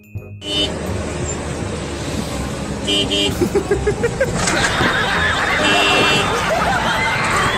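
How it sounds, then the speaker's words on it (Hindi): A car horn honks amid traffic noise and road rumble, with people chattering and laughing nearby. "पीछे कार वाला हॉर्न मारता है"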